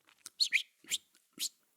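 A person whistles in imitation of a bird during a storytelling performance: a few short, high chirping whistles in quick separate bursts, close and fairly quiet, with no speech.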